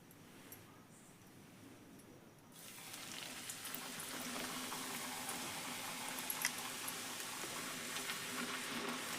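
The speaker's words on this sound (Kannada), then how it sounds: "ಎಣ್ಣೆ ಕಾದೈತಿ ಈಗ ಈಗ ಪುರಿ ಹಾಕೊಂಡು ನೋಡ್ರಿ" Puri dough dropped into hot oil, a quiet lull followed by a steady rising sizzle and bubbling that holds on at moderate volume.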